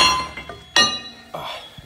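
Cut-off pieces of an Infiniti G37 steel spindle clink together in three sharp metallic strikes, the middle one loudest, each ringing briefly close by.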